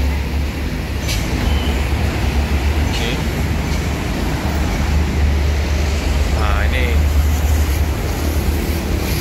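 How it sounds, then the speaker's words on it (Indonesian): A Palembang LRT train running past, a steady broad rumble with a low hum and brief squeals of wheels and brakes, heard amid surrounding street traffic while a person speaks briefly. "Nah, itu ada kereta apinya"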